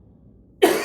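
One sharp, close cough bursts out abruptly after near silence.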